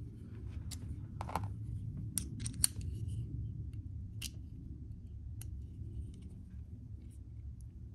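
Light taps with a small tool on the stop pin of a Vero Engineering Axon mini-scale RC car, a handful of sharp, irregular ticks over a low steady hum.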